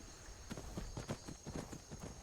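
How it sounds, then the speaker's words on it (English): Horse hooves clip-clopping in the Skyrim video game, a steady quick walking rhythm of hoof strikes, fairly close and moderately loud with no talk over it. "You can go ahead and jump off Bultahn the horse"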